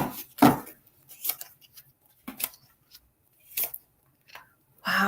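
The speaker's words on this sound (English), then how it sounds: "when you hear that shuffle, it sounds better already" Close, papery riffles and snaps of a card shuffle come in short bursts separated by quiet pauses, with a brief voice-like sound at one point.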